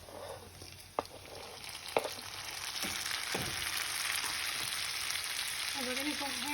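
Tomatoes frying in bacon fat in a pan produce a continuous close sizzle and crackle, with a few spoon or pan knocks early on and a brief voice near the end.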